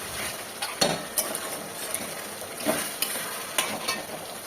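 Chicken gizzard sautéing in hot oil in a pan, a steady sizzle broken by repeated scraping and clinking of a spoon stirring against the metal, close and clear with no talk.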